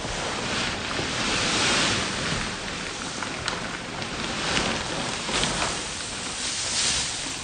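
Fresh straw poured out in a barn under a chicken roost makes a continuous loud, hissing rustle, like steady rain or surf, swelling and easing in waves with no voices.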